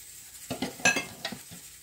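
A spoon scrapes and knocks against a metal pot while ingredients for batbout are stirred together, making a quick run of close clatters and clinks with no talking.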